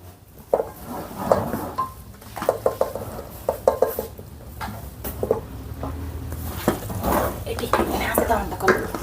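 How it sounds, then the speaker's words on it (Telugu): Rice flour is added bit by bit into a cooking mixture for pindi vantalu and stirred with a utensil. Irregular scraping and clattering strokes against the pot come close and fairly loud, with short pauses between bursts. "ఇప్పుడు ఒక కేజీ బియ్య పిండి కొద్ది కొద్దిగా వేసుకుంటూ కలుపుకుందాం"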